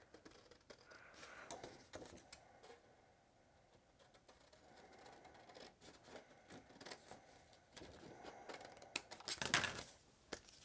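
Scissors snipping through paper, including glittered spider-web craft paper, while making a Halloween flip book; soft, close, intermittent cuts over a quiet room with no voices.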